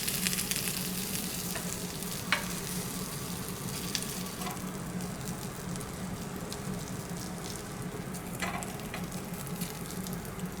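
Grated potato rösti fries in a pan, giving a steady, even sizzle and crackle that runs unbroken, with no voices over it.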